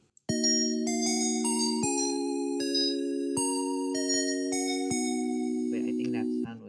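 An electronic game tune composed in LMMS plays back loud and steady, with sustained synth chords that change every second or so under bright lead notes, and a brief bit of talk near the end.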